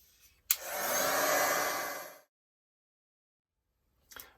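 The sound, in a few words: dryer drying gesso on an art journal page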